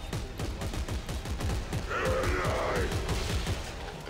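Gunfire from the video game Dead Space 3 cracks out in a rapid, uneven string of shots, with a short burst of game noise partway through and no speech.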